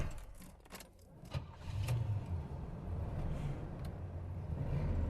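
A 1980 Trans Am Turbo engine turns over and catches quickly, settling into a steady, close rumbling idle after a brief crank, with a faint jingle of keys early on.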